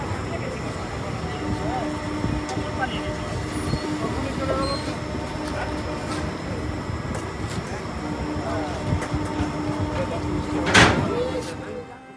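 A Silchar special fare train runs from Kolkata toward Guwahati, heard from inside an AC 2 tier coach as a steady rumble with clacking wheels and one brief sharp squeal near the end, faint voices beneath.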